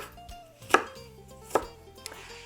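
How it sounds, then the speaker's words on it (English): A knife chops through apple pieces on a cutting board for oatmeal muffins, with two distinct, fairly loud chopping thuds spaced about a second apart and a lighter tap after them, no talking. "just turn them and cut them the other direction to chop them in even pieces"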